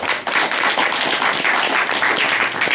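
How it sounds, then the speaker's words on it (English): A crowd at a Texas political lobby day gathering claps in a dense, slightly uneven patter, close and lively, lasting a few seconds without any voices. "Would you please give yourselves a round of applause?"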